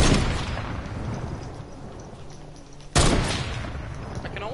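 Distant SMG bursts in the Fortnite video game, a low rumbling rattle that fades before a sudden louder blast near the end.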